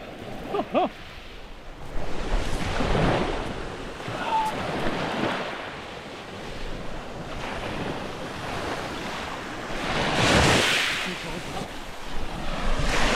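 Surf washing into a small beach cove in Sardinia, with broad swells of wash rising and falling over several seconds amid steady wind noise on the microphone, one stronger wave surging near the end.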